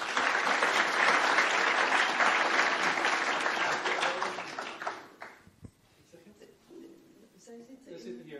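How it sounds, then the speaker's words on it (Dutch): Sustained applause from an audience at a spatial-planning presentation, dense and steady for about five seconds before fading out, then quiet with faint murmuring. "Graag een applaus."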